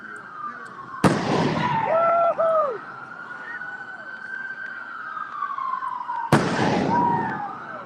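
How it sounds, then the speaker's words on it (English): Tear gas canisters fired by police at a street protest, two sharp loud bangs several seconds apart, with wailing sirens and crowd noise around them. "Oh, they're shooting off some tear gas."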